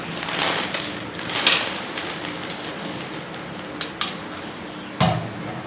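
Chana dal being stirred with jaggery in a pan for Kovilpatti peanut-brittle-style candy, with scattered scraping and light clinks of a utensil against metal and a couple of sharper knocks near the end.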